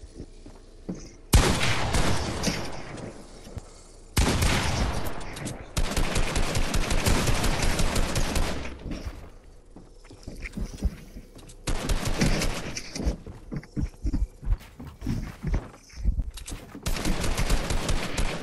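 Automatic gunfire in a squad-based shooter video game comes in long, loud, rapid bursts, some with echoing booms. Shorter sputtering volleys fall between quieter gaps, with faint voices now and then.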